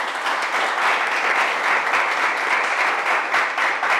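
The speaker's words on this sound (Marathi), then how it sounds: "जोरदार टाळ्या वाजवा" Dense, steady applause from a crowd welcoming two newly selected police recruits at an academy ceremony, sustained evenly for the whole stretch with no pauses.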